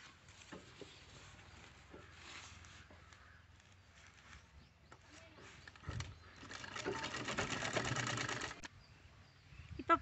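A sewing machine stitches a fancy drawstring wrist bag: after quiet handling and faint clicks, it runs in one fairly loud burst of rapid stitching lasting a couple of seconds, then stops.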